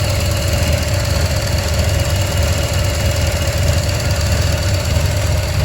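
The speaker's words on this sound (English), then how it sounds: "It's idling like absolute dog shit right now" A car engine idles unevenly, with a constant low rumble and irregular knocking pulses, heard up close with no voices.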